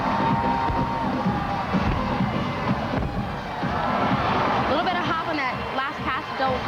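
A large arena crowd at NCAA gymnastics championships cheers and shouts continuously, with whoops and excited voices in a dense roar, while talk runs over it.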